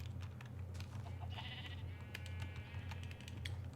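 Sheep bleating in the Minecraft video game (The Crafting Dead modpack), a wavering bleat standing out over a steady low ambient hum along with a few light clicks.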